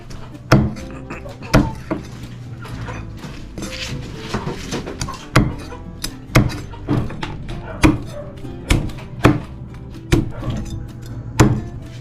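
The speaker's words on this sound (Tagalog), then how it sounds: "slice na natin ang ating mga crispy pork" Knife blade cutting crispy pork on a wooden board, a dozen or so sharp crunching chops landing at a steady, unhurried pace, close and loud, with faint background room noise between strokes.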